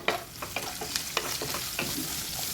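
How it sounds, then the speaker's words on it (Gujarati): Chopped onions stirred and sautéing in hot tempering oil for sambar, a steady close sizzle broken by several sharp scraping stirs of a spoon against the pan. "ડુંગળીને થોડી સાતળી લઈશું"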